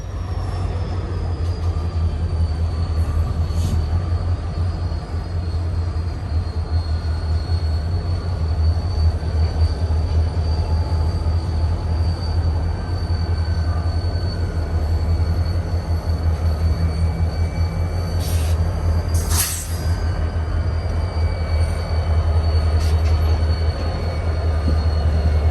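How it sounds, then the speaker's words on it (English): A train in motion passes close by, a loud, steady rumble of rolling wheels sustained for the whole stretch, with brief squeals and a faint whine riding on top. "This is a clip of a train in motion that was right down my road."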